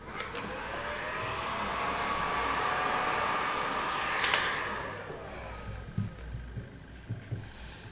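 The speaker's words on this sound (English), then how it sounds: "You can do this with a hairdryer or a heat gun." A hairdryer or heat gun blows hot air onto an iPhone 3 faceplate, giving a steady whooshing hum that fades after about five seconds, followed by a few faint handling knocks.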